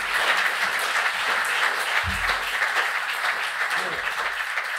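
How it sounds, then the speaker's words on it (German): Audience applause at an award ceremony honouring runners of the year, a sustained wash of clapping from a crowd, with a few brief low thumps partway through. "Das hat einen Applaus verdient."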